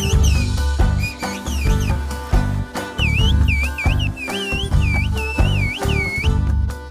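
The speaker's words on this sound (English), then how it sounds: "whistled language meets the communication needs in the region" Traditional Black Sea whistled language of Turkey's mountain villages, heard as a string of loud, sliding whistled phrases that rise and fall repeatedly over a dense, rhythmic musical backing.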